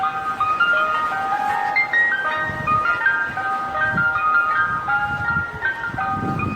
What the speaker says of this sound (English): I know that ice cream truck is just coming around the corner